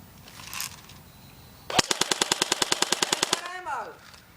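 A JG G36C airsoft gun fires a fast full-auto burst of about twenty sharp, evenly spaced cracks lasting under two seconds, close and loud, after quieter handling noise and before a brief whir.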